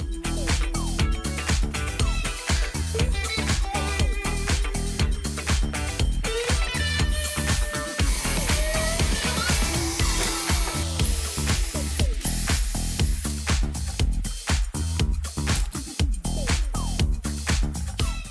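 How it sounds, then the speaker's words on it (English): A power drill whirs and bites into cabinet side panels in repeated short bursts, drilling pilot holes for tapping screws, close and loud, with brief pauses between holes. "The side panels use countersunk tapping screws, so I had to drill each pilot hole first."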